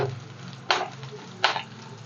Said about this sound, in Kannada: ನೋಡಿ ಇಷ್ಟು ಫ್ರೈ ಆದರೆ ಸಾಕು